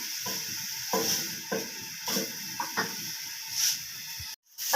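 Onion sizzling in hot ghee in a kadhai, a steady frying hiss broken by repeated scraping stirs, ending in a brief silence and a knock.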